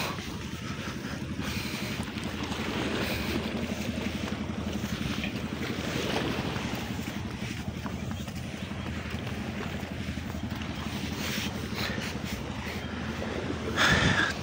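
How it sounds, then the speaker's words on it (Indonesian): Boats out at sea off the coast at Pantai Alam Indah, Tegal, with a continuous low engine drone blended into strong wind buffeting and wash of waves, steady and loud throughout without talk. "banyak banget perahu."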